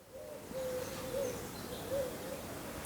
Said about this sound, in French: j'écoute les oiseaux autour de moi